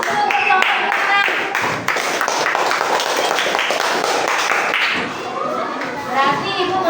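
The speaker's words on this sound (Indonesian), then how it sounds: "beri aplaus dulu untuk kelompok 6" Children in a classroom clap for group 6, a steady patter of hand claps mixed with young voices chattering, lasting several seconds at close range before thinning out near the end.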